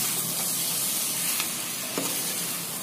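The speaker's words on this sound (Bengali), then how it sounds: "এই দেখুন ভালো করে আমি পুরো মশলার সাথে পেঁপেটাকে ভালো করে কষিয়ে নিচ্ছি।" Papaya being sautéed with spices in a pan makes a continuous hissing sizzle with a couple of brief stirring scrapes, close and unbroken, and nobody speaks.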